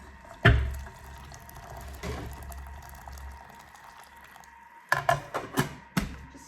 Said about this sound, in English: place boiling hot water into there